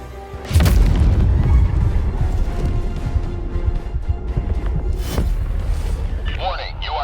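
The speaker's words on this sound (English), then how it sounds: "Warning, you are in range of enemy artillery." Enemy artillery shells explode in the video game Helldivers 2: a heavy, loud boom rolls out early and a second sharp blast lands later, amid ongoing battle noise and voices talking.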